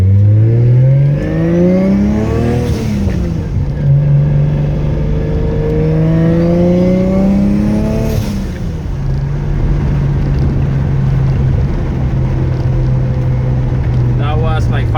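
A 1JZ-swapped RX7 with a Precision 6266 turbo revs loudly up and down twice, engine tone climbing and falling, then holds a steady drone with turbo whoosh close by, under ongoing talk.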